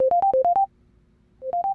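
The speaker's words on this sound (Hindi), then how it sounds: "विकी को उसके दोस्त चेतन ने फोन किया था" A phone ringtone plays a quick melodic burst of tones, pauses briefly, then starts the same pattern again; clear and close, with no voices.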